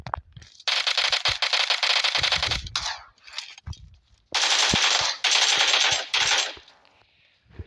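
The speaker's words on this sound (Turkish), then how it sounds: "Kilise bir yerden sıkıyorlar. Sıkıyorlar." Automatic gunfire in the battle royale game PUBG, several sustained loud bursts broken by short pauses and a few single shots, heard alone without talk.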